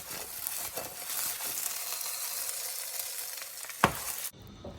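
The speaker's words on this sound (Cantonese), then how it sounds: "而家望落去啲薯仔都煎到差唔多噶啦" Diced potatoes pan-fry in oil for Portuguese baked chicken, a soft continuous sizzle with a brief clink near the end before the sound cuts off abruptly.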